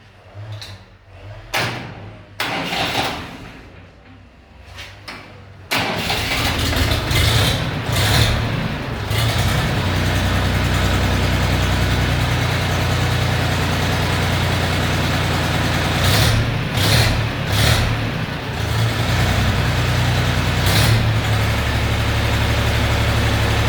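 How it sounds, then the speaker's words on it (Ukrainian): A few clanks and knocks, then the diesel engine of a Xingtai 244 tractor under repair starts and settles into a loud, steady idle that keeps running close by. "Зараз дамо трошки поробити двигуну."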